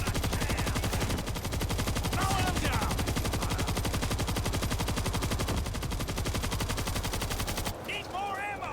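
Continuous rapid automatic gunfire in the zombie shooter game World War Z, dense bursts of shots rattling nonstop, with players' voices calling out briefly over the shooting before it cuts off.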